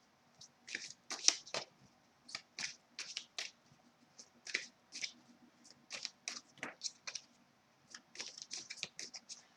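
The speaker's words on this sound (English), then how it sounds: "I'm just going to shuffle first." Crisp bursts of card shuffling, quick papery riffles in irregular clusters, close and clear against a quiet room.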